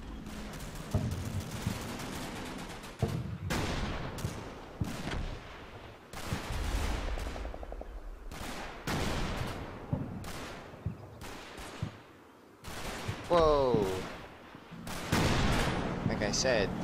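Mortar rounds bursting in the WWII Normandy wargame Combat Mission: Battle for Normandy, a string of sharp, heavy booms at irregular intervals with rumbling tails and brief gaps between blasts.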